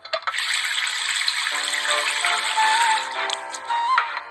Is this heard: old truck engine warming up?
no